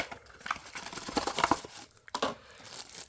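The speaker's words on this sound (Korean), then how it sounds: "그냥 땡기면 굉장히 찌그러지면서 열릴 것 같은데" A cheap Rapid PD 10W phone charger box is pulled open by hand, giving close, crackling crumples and tearing of the packaging in several uneven bursts.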